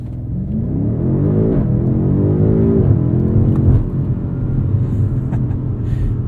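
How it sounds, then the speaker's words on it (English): A 2021 BMW M5 Competition launches hard, its engine rising through the revs in a loud, close, continuous pull with a brief dip around a gear change before climbing again, with no talking over it. "Let's do a quick brake test with these carbon ceramics and then I will launch."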